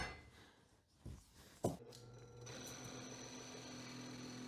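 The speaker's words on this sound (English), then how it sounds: "I clamped my block down and slowly started drilling through the walnut" Power drill fitted with a Forstner bit boring through a clamped walnut block, a steady whirring drone settling in after a couple of knocks, close and continuous.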